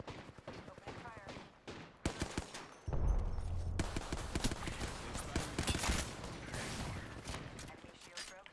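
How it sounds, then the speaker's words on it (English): Gunfire in a shooter video game: scattered sharp shots give way to sustained bursts of automatic fire with mechanical clatter, loud and close, while a voice speaks over the action. "I'm taking shots. Opening fire."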